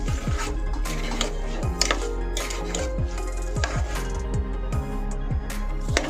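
A spoon stirs plain rice in hot oil in a pot for khichdi, making steady, rhythmic metallic clinks and scrapes against the pot over a constant low background hum.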